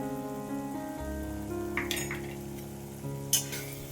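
A spoonful of goda masala sizzles in a pan of tomato chutney, giving a soft, steady frying hiss over a constant tonal hum, with a couple of brief clatters near the end.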